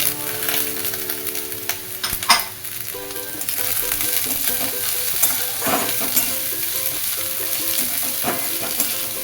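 Vegetables and boiled sweet corn fry in a pan for vegetable poha, with a dense ongoing sizzle, clattering stirs and a few louder knocks. A faint tonal pattern runs underneath.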